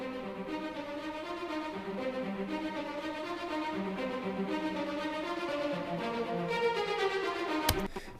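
An Action Strings orchestral patch plays a programmed 16th-note pattern, with quick, even, pulsing string notes over changing chords. It is moderately soft and unaccompanied, with a brief sharp transient near the end.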